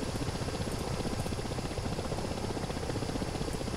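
Rotors of a Ka-50 Black Shark helicopter in DCS World give a dense, steady chopping roar that holds loud and constant throughout.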